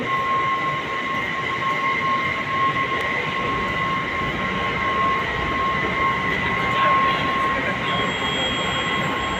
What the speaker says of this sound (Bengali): মনে হচ্ছে মেট্রো চলে এসছে